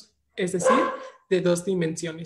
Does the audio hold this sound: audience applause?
no